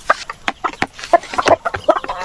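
Chickens on a small farm give a close run of short, uneven clucks and squawks that overlap for a couple of seconds, with no talking.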